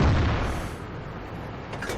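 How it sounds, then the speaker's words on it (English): A heavy tank gun booms with a HE round in World of Tanks, a Chinese tier 8 WZ-111 firing on an E75; a loud low blast decays into rumbling battle noise, with another burst rising near the end. "So he's firing a bit of HE at the moment"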